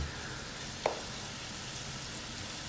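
Tomatoes and cabbage fry in a pan, making a faint, even sizzling hiss with a single light tap partway through and no talking.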